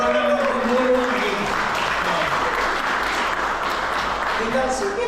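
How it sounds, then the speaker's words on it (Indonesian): Wedding guests applaud the teacher during the ceremony: a steady mass of clapping fills the room while people talk over it at moderate loudness. "Oke, tepuk tangan untuk guru lagi."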